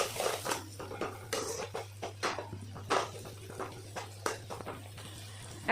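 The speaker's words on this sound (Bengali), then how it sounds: "এখন ভালো করে একটু নাড়িয়ে নিই এটা।" Spiced onions, fried red and dusted with salt, turmeric, cumin and coriander powder, stirred in a pan with a utensil, giving soft repeated scraping and clinking strokes over a steady low hum, fairly close.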